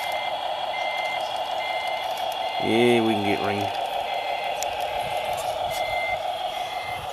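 A Tamiya radio-controlled truck backing up with a trailer gives off steady, evenly spaced electronic reversing beeps, repeating at a moderate level while a person talks over them.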